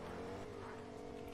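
A car drives in a video game, a steady droning engine note held at a constant pitch at moderate volume, with no clear braking heard.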